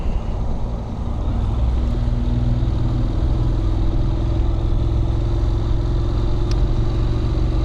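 Honda NC700X motorcycle engine while riding, a steady low tractor-like drone with wind rush, continuous and close for several seconds with no talk.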